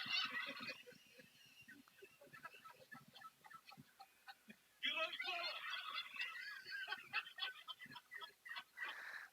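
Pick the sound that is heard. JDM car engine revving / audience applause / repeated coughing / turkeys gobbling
turkeys gobbling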